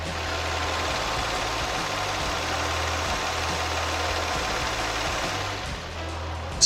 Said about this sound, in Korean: SM7 이 차량의 엔진 소리 얼마나 조용하고 안정적인지